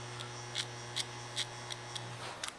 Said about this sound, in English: hair cutting, I'm not cutting a lot, but listen for it